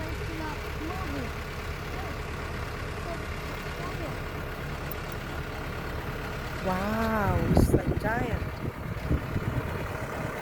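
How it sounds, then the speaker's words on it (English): Komatsu PC200 excavator engine idling outdoors, a steady low diesel rumble running throughout beneath people talking, swelling slightly louder toward the end. "Can you hear the Komatsu engine?"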